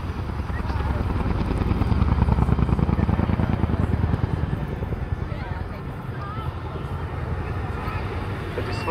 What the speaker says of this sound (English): The display you see today really demonstrates just how maneuverable this extremely large helicopter is.